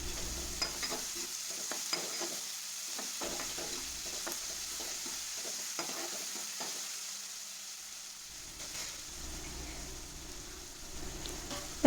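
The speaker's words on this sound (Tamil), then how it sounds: "மறுபடியும் கொஞ்சம் வதக்கிக்கலாம்" Salted onions sauté in a pan, a continuous close frying hiss with frequent scrapes and taps of a spoon stirring through them, no voices present.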